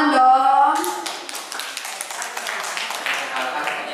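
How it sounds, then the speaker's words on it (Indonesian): Audience clapping at a medical talk on breast cancer therapy, a scattered patter of claps that follows a brief burst of speech at the start and holds steady to the end. "Tepuk tangan dong."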